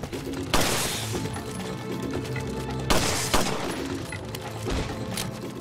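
Gunfire in the video game Resident Evil 4, loud shots going off in a few separate bursts with sharp cracks and a ringing, crashing decay, set against a constant background game ambience and no clear talk.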